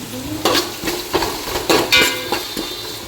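Beef, masala and other ingredients sautéing in a pan, heard as a series of scraping stirs at a steady rhythm over a soft sizzle, close and fairly loud, with no voices.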